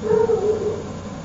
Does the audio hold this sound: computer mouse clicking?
no